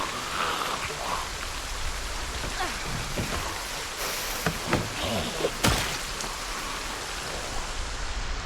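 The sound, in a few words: rain storm in a video game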